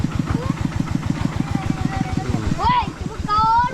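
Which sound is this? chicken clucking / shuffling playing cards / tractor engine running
tractor engine running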